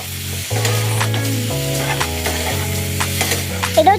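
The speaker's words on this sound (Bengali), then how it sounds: "এই যে আলু দিয়ে নাড়া হচ্ছে," Boiled potatoes sizzle while being stirred in a frying pan for a paneer curry, with a close steady frying hiss and scraping stirs. A sustained stepped tone runs beneath, and a few sharp clatters come near the end.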